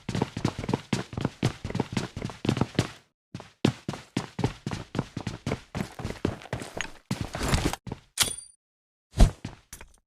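Grenade blasts and sharp gunfire-like bangs crack repeatedly through a PUBG-style battle royale match, dense close impacts in rapid succession with brief gaps, no voices over them.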